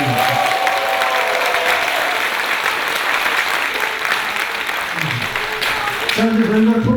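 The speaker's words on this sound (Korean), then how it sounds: "좋은 말을 해주신 조정훈 의원에서 박수 한번 주세요." A seated audience at a political lecture and talk show applauds for a guest lawmaker, a loud, steady wave of clapping throughout, with a voice speaking briefly over it at the start and end.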